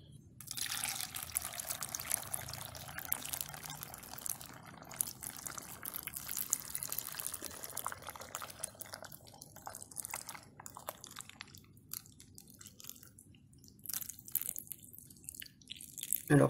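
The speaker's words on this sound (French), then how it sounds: "Maintenant je vais ajouter l'eau sucrée." Sugared water pouring steadily into a jar packed with apples for making apple cider vinegar, a continuous close trickling splash that thins toward the end.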